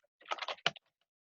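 Short burst of quick keystrokes on a computer keyboard, a handful of close, crisp clicks ending with a sharper tap, then silence.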